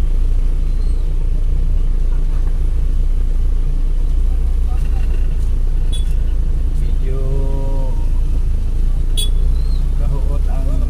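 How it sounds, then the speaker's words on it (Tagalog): Heavy road traffic outside the public market in Palao, a continuous loud low rumble of engines with a passing vehicle's tonal whine and occasional brake hiss, voices faintly mixed in. "kahuot ang traffic guys."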